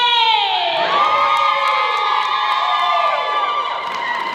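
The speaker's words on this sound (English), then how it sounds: "women, can I hear us cheering up?" A crowd of women at a South Sudanese community election gathering in Maine cheers loudly with high-pitched whoops and shouts, sustained and close for the whole stretch.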